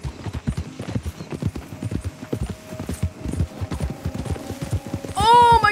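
Horse hooves clip-clop in a rapid galloping rhythm during riding in the video game Red Dead Redemption 2, with a brief whinny-like cry near the end.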